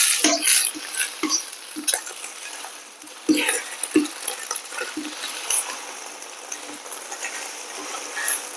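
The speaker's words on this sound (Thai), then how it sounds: "น้ำมันเริ่มร้อนแล้วพี่น้อง" Food fries in hot oil with a steady, loud sizzle, broken by sharp clinks and scrapes as a utensil stirs the pan.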